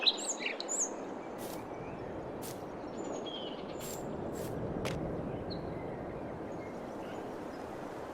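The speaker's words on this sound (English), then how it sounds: "The birds flying there." Birds chirp in the video game Farming Simulator 22 on the Calmsden farm, with a few short tweets near the start over a steady soft ambient wash.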